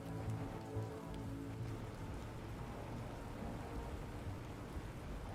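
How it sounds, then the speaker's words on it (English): Soft, steady rain in the video game Planet Crafter patters on a surface, a faint continuous hiss of drops with no voices. "I can hear rain."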